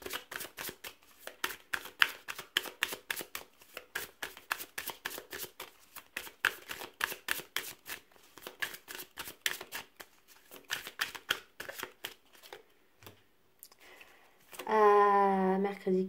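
Playing cards being dealt and flipped onto a table one after another, a rapid run of crisp slaps and shuffles close by, with a brief pause near the end before a short burst of voice.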